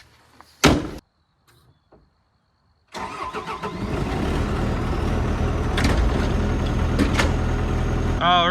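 An old piece of heavy machinery is cranked and fires up, a door thump and short pause leading into a loud, steady mid-pitched engine rumble that keeps running as it warms up.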